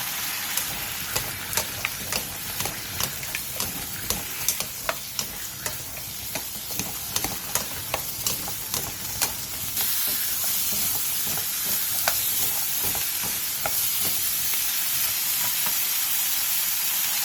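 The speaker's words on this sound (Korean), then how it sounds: "팬에 기름을 두른 뒤 감자와 당근, 다진 마늘 한 스푼을 넣고 센 불에서 3분 정도 볶아주세요." Potatoes, carrots and minced garlic stir-frying in oil in a pan over high heat: a continuous close sizzle with regular spatula taps through the first half, then a steadier, louder hiss.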